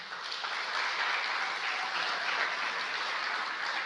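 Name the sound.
church congregation applause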